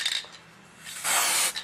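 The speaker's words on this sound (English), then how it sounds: "If you want it very shiny, then you can put very heavy coat of spray" Varnish is sprayed from a can onto a ceramic flower in short hissing bursts: a brief spray at the start, then a longer, louder hiss near the end, with a quiet gap between.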